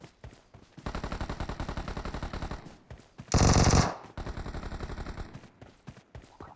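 Automatic gunfire in the mobile battle royale game BGMI, with sustained rapid bursts of shots and a loud, dense volley in the middle, fairly close and not overlaid by talk.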